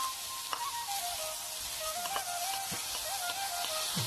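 About 250 grams of finely chopped ginger frying in coconut oil in a pan, a soft continuous sizzle with sparse pops and light clicks against a faint tonal whine, up close with no talk.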